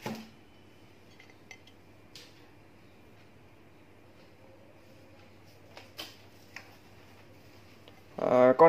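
A Toshiba rice cooker's inner pot is handled, giving scattered light metallic clinks and taps in a quiet room, then a louder clatter at the end, with a voice speaking.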